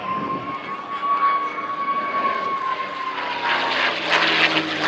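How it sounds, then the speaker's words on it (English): A North American P-51D Mustang named "Quick Silver", powered by a Packard-built Rolls-Royce Merlin engine, roars past during a pylon turn at an air show, a loud sustained engine drone with a steady whine that swells toward the end. "The Rolls-Royce Packard-built Merlin engine, built in mass quantities for the P-51 program"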